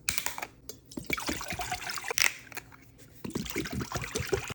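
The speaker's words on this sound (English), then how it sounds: "First, we're going to pour them into these pots." Prime drink poured from bottles into two electric pots, a close liquid trickle and splash in bursts with a short pause partway through.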